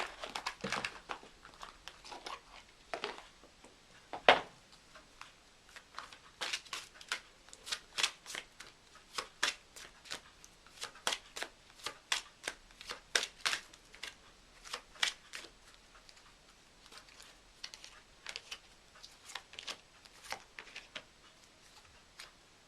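A deck of tarot cards being shuffled by hand, with repeated quick riffling bursts and soft paper flicks in an irregular rhythm, close and fairly quiet.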